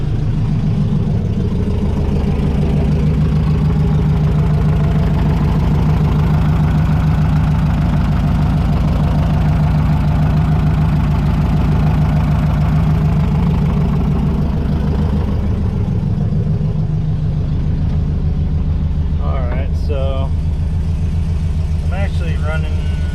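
A Mustang notchback running on E85 idles steadily and loudly up close, a continuous low rumble with a slightly uneven, fluctuating tone and faint clicks near the end.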